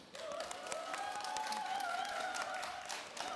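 An audience at an autism arts festival talk welcomes a speaker with steady, moderately distant applause, while a faint high tone hums underneath.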